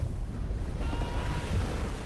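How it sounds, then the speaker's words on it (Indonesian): Ocean surf rolling in during a tense film scene, a steady broadband wash of waves with wind and no break in the roar, loud and continuous throughout. "Dan ini adalah ombak kedelapan yang harus dilaluinya"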